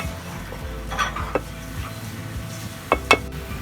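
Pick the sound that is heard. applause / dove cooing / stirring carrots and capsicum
stirring carrots and capsicum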